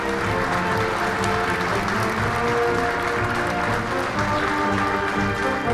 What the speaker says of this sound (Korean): 열병간 늠름한 모습을 보여주고 있는 우리 국군 장병들에게 다시 한번 큰 박수를 보내주시기 바랍니다